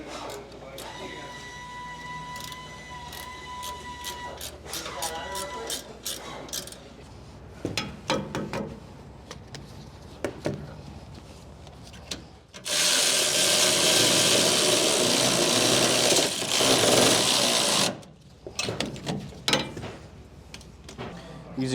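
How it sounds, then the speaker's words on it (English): Half-inch bolts on a Torklift Apex Anchor tie-down bracket for a 2011-2016 Ford F350 are tightened with a 19 mm socket: ratchet clicks and clanks, then a long, loud power-tool whir, close by. "then you can tighten your 1/2-inch bolts down using a 19 mil socket"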